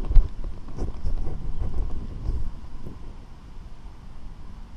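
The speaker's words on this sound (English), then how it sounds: "is a little windy" Wind buffeting a microphone outdoors during a hunt, a low rumbling gusty roar that is strongest early on and eases toward the end.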